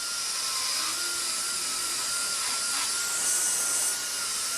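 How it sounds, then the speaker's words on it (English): A dental E-cutter burr smooths an acrylic complete denture with a steady high-pitched whine and a hissing grind, close and continuous throughout, with no talking. "I'm going to switch to the larger burr of the E-cutters. We're just going to smooth this a little bit right here"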